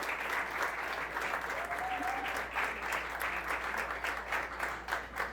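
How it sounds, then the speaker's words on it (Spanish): Applause from a church congregation for the production crew, steady and fairly faint with a distant crowd feel, no speech over it. "Un aplauso a los niños de producción"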